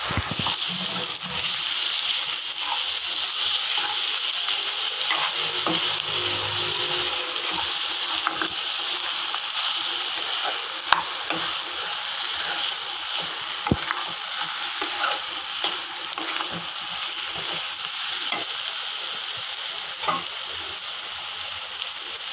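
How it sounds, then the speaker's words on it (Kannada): Boiled, salted potatoes sizzling and being stirred in a hot frying pan for a Kannada-style potato palya, with steady broadband frying hiss and occasional scraping clicks throughout, loud and close with no talking. "ಉಪ್ಪಾಕಿ ಬೇಯಿಸ್ಕೊಂಡಿರೋ ಆಲೂಗಡ್ಡೆನ ಹಾಕ್ತಾ ಇದ್ದೀನಿ"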